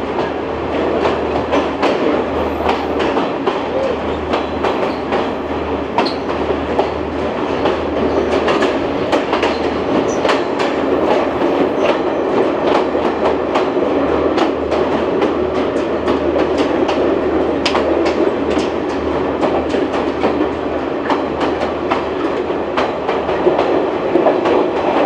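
A passenger train on the Kandy to Colombo line in Sri Lanka runs through a long tunnel, giving a dense, steady roar of wheels and rolling stock with a continuous low rumble and faint rhythmic clatter throughout.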